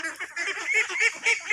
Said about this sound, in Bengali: এই দেখুন আমাদের হাঁস, এগুলো পুকুরেই থাকে